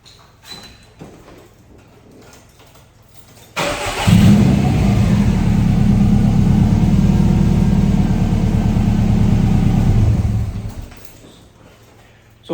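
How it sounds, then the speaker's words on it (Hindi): A car engine cranks and catches after a quiet pause, then idles loudly and evenly for several seconds before shutting off and fading back to near silence. "और अब गाड़ी स्टार्ट करेंगे।"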